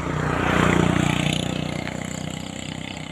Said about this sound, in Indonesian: Suara gemuruhnya sudah terdengar nih.